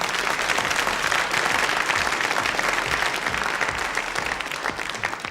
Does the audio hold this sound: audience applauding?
yes